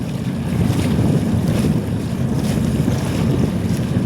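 A motor boat's steady low rumble mixes with constant rushing wind and churning waves on the rough Narmada river at Sardar Sarovar, loud and close, with no voices.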